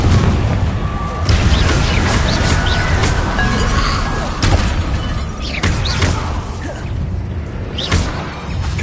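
Confringo blasting spell explosions in Hogwarts Legacy, a loud, dense run of booming blasts and thuds with whooshing bursts across the whole stretch, close and continuous with no talking.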